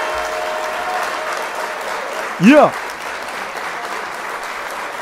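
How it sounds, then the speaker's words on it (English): Applause at a gaming show, a steady background wash of clapping broken by a short loud shout or cheer from a nearby voice midway. "Another round of applause for Redfall Game of the Year."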